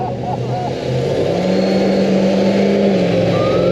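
A muscle car two-stepping at a MoPar car show picnic, the engine held at high revs with rapid stuttering pops, loud and close, while people talk nearby.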